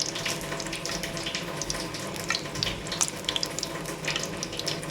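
Dry red chillies sizzle in hot oil for a tempering, a continuous close crackling hiss with irregular sharp spits and pops.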